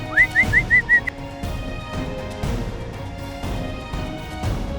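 A person whistles a quick run of five short rising chirps, clear and close, followed by a few seconds of quieter room sound with faint thumps.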